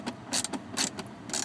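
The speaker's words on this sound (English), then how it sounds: "I'm using my big long ratchet, tightening this thing down," Ratcheting clicks from a big long ratchet tightening a bolt on a 2004–2005 Ford F-150 shifter, coming in three short bursts of rapid mechanical clicking at close range.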